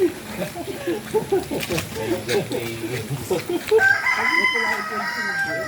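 Chickens at a farm in the Philippines cluck and crow in a lively, repeated chorus close by, with people talking over them.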